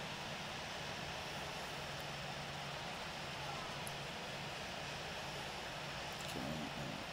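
Jet airliner engines idling in a JetBlue flight simulator game while taxiing at Fort Lauderdale, a steady, dense roar with a low hum that holds level throughout and never lets up.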